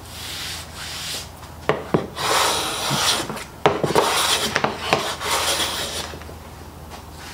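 A Stanley hand plane fitted with a 55 degree high-angle frog takes thin shavings off a sycamore board, giving repeated rasping strokes, each a loud swishing rub with sharp starts, in an uneven rhythm.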